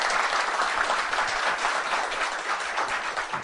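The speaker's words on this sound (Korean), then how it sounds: "박수 한번 안 계시지만 쳐드립시다" Steady audience applause at a general assembly meeting, a dense, continuous wash of many hands clapping at even loudness throughout, with no voices heard.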